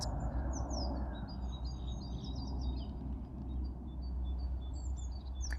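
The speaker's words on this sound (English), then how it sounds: "Can you hear the birds?" Small birds chirp and tweet faintly in the distance over a steady low rumble of background noise in West Norwood, London.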